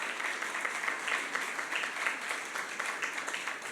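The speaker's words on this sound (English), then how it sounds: "give him a very warm round of applause" Audience applause welcoming the US Consul General at a university centre launch on campus, a steady, moderately quiet wash of many hands clapping that holds evenly throughout.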